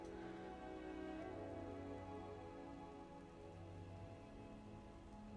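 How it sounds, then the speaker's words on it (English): Heavy rain falls in the medieval fantasy game Skyrim, a continuous, even hiss of downpour with a low steady rumble underneath, quiet and unbroken with no voices. "Yes, it's raining heavily with strong winds and thunderstorms."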